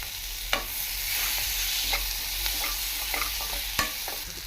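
Capsicum and tomato fry and sizzle in a pan for chicken manchurian gravy, a steady hiss with a few sharp clicks of a spoon stirring against the pan, close and continuous with no talk.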